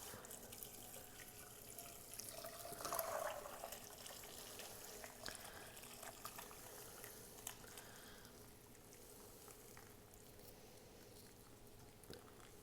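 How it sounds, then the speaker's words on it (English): Stock is poured and strained from one pot into another while making risotto, a steady close splashing stream of liquid with gurgling and patter throughout, no voices over it. "we're straining it back into another pot so that we're able to keep it warm while we make our risotto"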